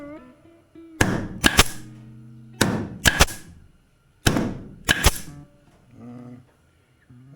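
A small handheld gun tool snaps repeatedly while wind lace is fitted around the door of a 1932 Studebaker: three close clusters of two or three crisp, loud clicks, followed by softer handling noises.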